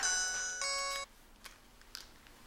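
A mobile phone rings with a bright electronic melody for about a second, then cuts off, leaving a faint quiet room with small clicks and rustles.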